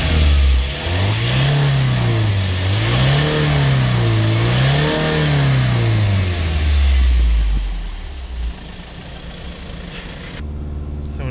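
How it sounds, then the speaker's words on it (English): A Ford Transit van engine with fault code P2033 revs up and down in several rising and falling surges, loud and close, then settles back toward idle. "Okay, so we're just giving it some revs."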